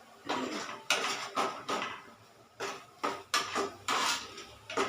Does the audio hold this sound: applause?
no